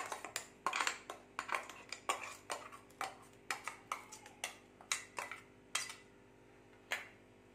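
Ground coconut paste being stirred into yogurt with a spoon, quick irregular clinks and scrapes against the bowl, close but fairly quiet, thinning out toward the end.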